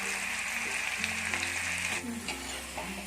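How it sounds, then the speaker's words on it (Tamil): Okra fries in hot oil, a dense, loud, continuous sizzle with bubbling crackle close up, with low stirring or pan sounds underneath. "அதில் வந்து நம்ம ஆல்ரெடி மிக்ஸ் பண்ண வெண்டைக்காய் வந்து கொஞ்சம் கொஞ்சமாக போட்டுக்கணும்."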